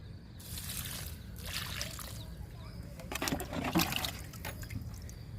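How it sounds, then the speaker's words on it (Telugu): Liquid fertilizer pours onto fruit plants and drumstick saplings outdoors, a soft, fairly quiet trickle and splash with a brief louder gush partway through. "మొక్కలు ఇప్పుడు లిక్విడ్ ఇస్తున్నాను"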